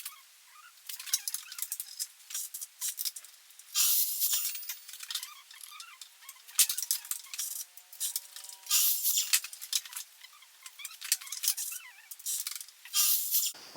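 Cutting wooden dividing pieces to size for a pull-out bed frame in a camper van conversion, heard as a steady run of rasping, scraping bursts with brief pauses, close by and without talk.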